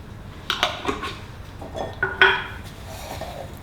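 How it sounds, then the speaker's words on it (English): A spoon stirs toasted muesli with almond cream in a bowl, making several close clinks and scrapes against the sides in irregular bursts, with no talking. "Give that a really good stir."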